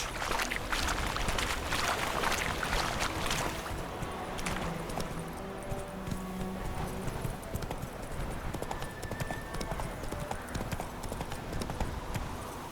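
Hooves of Roach, the horse in The Witcher 3: Wild Hunt, clop at a busy, steady pace, loud and close, against a dense wash of game ambience.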